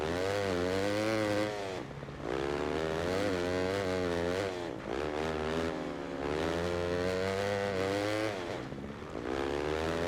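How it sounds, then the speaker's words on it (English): A 250F dirt bike engine in Monster Energy Supercross 6 whines and buzzes nonstop, its pitch climbing and falling in repeated revving waves with brief dips between throttle bursts, loud and close with no talking. "This 250F is so underpowered."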